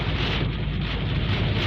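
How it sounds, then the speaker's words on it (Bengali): Strong storm wind buffets a car being driven in Jeddah during heavy rain, a loud, steady roar of gusting air battering the microphone throughout. "কিন্তু যে হাওয়া মারতেছে"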